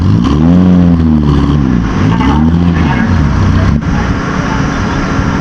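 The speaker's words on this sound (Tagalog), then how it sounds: "Namatay na ang makina." A boat engine roars close by, its pitch swinging up and down in repeated revving surges. The tonal drone then fades after a few seconds, leaving a loud, rough rumble of water and wind.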